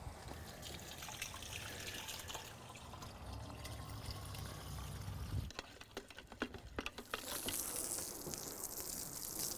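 Water trickling and pouring into a gallon container while mixing crystallized deck brightener, a faint steady stream with splashing that grows busier toward the end.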